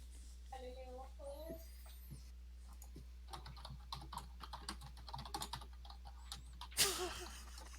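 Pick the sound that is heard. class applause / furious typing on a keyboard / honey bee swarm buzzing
furious typing on a keyboard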